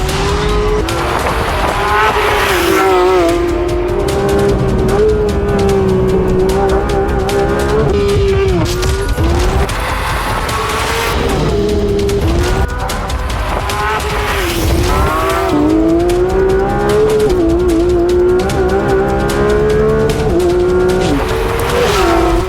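A manual-shift Porsche 911 GT3 lapping the Nürburgring Nordschleife at speed, engine note loud and close, repeatedly revving high, dropping on shifts and rising again through corners, with no talk over it.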